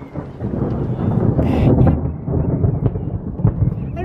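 Thunder rumbles low and heavy during a lightning storm, a continuous close rolling growl with a few sharper cracks over a steady bed of rain.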